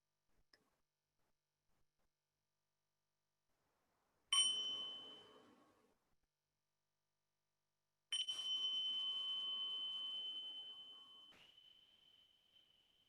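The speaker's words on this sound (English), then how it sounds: "maybe we can listen to a sound of the bell, and then Sita will share with us" A mindfulness bell rings twice: the first strike is a clear, sustained metallic tone that fades over a couple of seconds, and the second strike rings longer and louder before stopping abruptly, with silence before and between.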